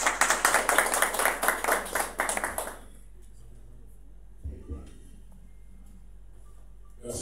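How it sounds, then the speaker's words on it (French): Applause from a press-conference crowd greeting an arriving speaker: dense, loud clapping for about three seconds that stops abruptly, followed by near silence with a couple of faint thumps. "sous vos applaudissements"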